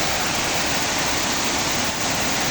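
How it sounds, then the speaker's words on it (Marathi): Water pours steadily over the Saigaon dam waterfall amid forest, a dense, continuous broadband roar that stays loud and even throughout with no other sounds. "झुलझुल पाणी वाहत आहे"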